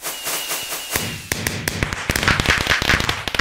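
A burst firework explodes in Minecraft, giving a rapid string of sharp crackling pops and taps that grows denser over a few seconds, loud and close with no talking.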